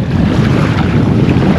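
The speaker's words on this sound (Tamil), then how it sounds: "குட்டி ஒரு இந்த போட்டை வச்சுட்டு, ஸ்பீட் போட்டு ஒரே ஒரு இன்ஜின் மட்டும் வச்சு போகிறாங்க" A small single-engine fishing boat heads out from the Fiji coast, its steady motor drone blending with heavy wind buffeting and water wash, loud and continuous throughout.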